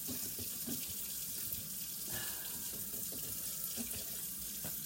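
Fish rinsed under a running kitchen tap, a steady close rush of water into the sink with small splashes and shifts as the fish is turned.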